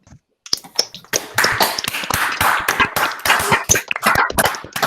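Participants in an online meetup, unmuted over a video call, applaud in a burst of sharp, uneven claps and taps from many separate microphones, loud and close, starting after a short silence and continuing in a dense patter.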